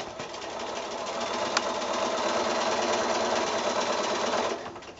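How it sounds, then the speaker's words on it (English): Quilt squares for a Shoo Fly block pass through a sewing machine along a drawn line, its motor whirring loudly and steadily for several seconds before cutting off near the end. "So I'm going to sew right on that longer line first"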